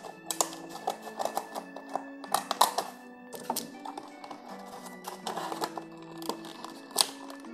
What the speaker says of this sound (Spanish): ahora hay que cortarlo por aquí. Cortar el blister por aquí.